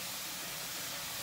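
Water poured into a hot stir-fry pan of noodles sends up a loud, continuous hiss of steam, a dense unbroken rush with no talking.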